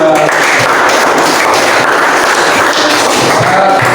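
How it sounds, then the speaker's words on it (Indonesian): Classroom group applauding a presenting group during a lesson, dense and loud continuous clapping from many hands close by, sustained throughout without pause. "Tepuk tangan dulu untuk kelompok 2"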